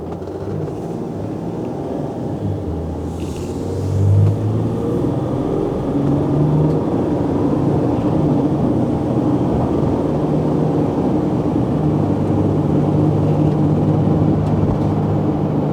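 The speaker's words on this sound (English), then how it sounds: "we're going to get on the gas pedal a little bit, and so you can hear the motor, hear the shifting" A 2016 Mercedes-Benz Sprinter van engine, custom-built, revs up and pulls hard, with a steady loud rumble that swells around the four-second mark and holds through gear changes, no talking over it.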